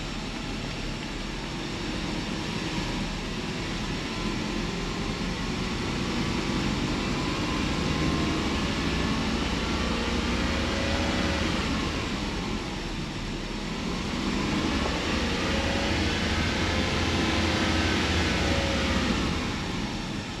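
A Lexus LS400 with a 1UZ V8 and A340 automatic transmission drones steadily as the engine is brought up through the gears, the tone rising and falling slightly as it shifts.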